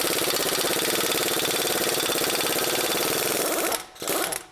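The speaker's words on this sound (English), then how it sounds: "See, that's the advantage of an air gun." A pneumatic impact gun with a long-reach 32mm socket undoes the hub nut on a Nissan Navara. It hammers in a loud, close, rapid rattle for nearly four seconds, cuts out briefly, then fires one short final burst.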